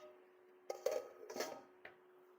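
Metal lid set onto a pot of ghee rice, with a few light clanks and scrapes close by over a soft steady hum.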